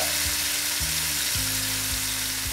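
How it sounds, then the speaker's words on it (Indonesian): Ground spice paste of garlic, kaffir lime leaves and shrimp paste sautéing in about two tablespoons of frying oil for Indonesian sambal urap, a steady close, loud sizzle with no voices. "Saya akan menumis bumbunya."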